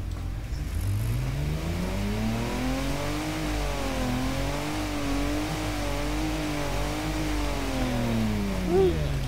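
A simulated RB26 inline-six in the Automation game revs steadily, its engine note rising and falling in smooth sweeps throughout, loud and continuous with no talking.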